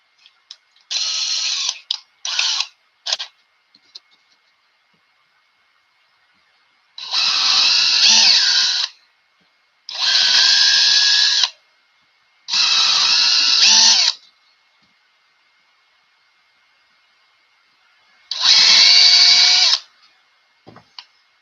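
A power drill whirs in repeated bursts while building a model aircraft fuselage, a few short pulses then several longer runs of a couple seconds each, separated by quiet pauses.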